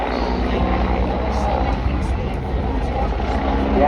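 An aircraft flying at the Southport Airshow, a continuous broad engine roar heard steadily throughout, with a public-address voice speaking over it.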